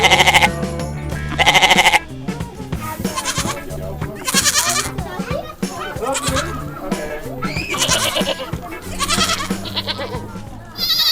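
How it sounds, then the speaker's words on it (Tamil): Goats bleating loudly and repeatedly while being fed at a goat farm in the Netherlands, several close overlapping calls in bursts, with people talking in between. "ஆட்டுக்கு உணவு கொடுத்துடலாம்."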